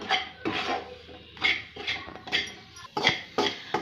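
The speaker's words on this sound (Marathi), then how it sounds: "हे सर्व पीठ मी छान भाजून घेते एकदम खमंग असं" Flour being dry-roasted and stirred in a pan over low gas heat, a spoon scraping in rhythmic rasping strokes, roughly eight close scrapes with short pauses between; no talking.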